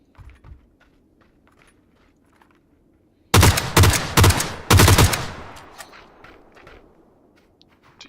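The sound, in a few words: gunfire in the video game PUBG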